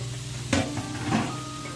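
Tomato and sliced onion sauté in a pan for a chicken roast, giving a soft sizzle with two quick spatula scrapes.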